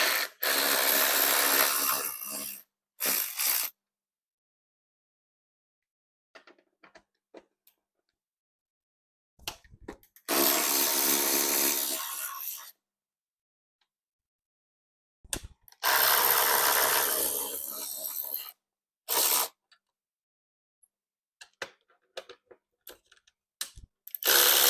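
A ratchet loosens bolts on a GC8 car seat in several bursts of rapid, close clicking, separated by quiet pauses with faint handling taps.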